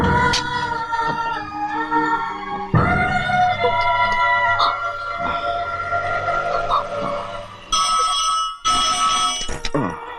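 Telephone bell ringing in repeated bursts in an Indian film scene, loud and close, with background music and sound effects layered underneath.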